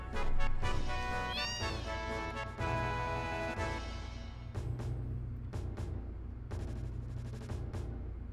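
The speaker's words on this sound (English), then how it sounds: "Cat, weird ass cats up there." Cats meow in the Final Fantasy VII video game, a series of nearby, pitched, tonal cries layered over game music and sound effects, with one clear rising meow early on followed by more scattered calls.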